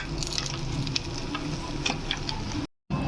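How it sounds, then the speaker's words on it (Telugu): Roasted poppy seeds being stirred into a dry fruit laddu mixture in a pan, a continuous close scraping and sizzling rustle with small ticks of a spoon, ending in a brief cut to silence. "గసగసాలు కూడా వేసేసి బాగా మిక్స్ చేసుకోవాలి"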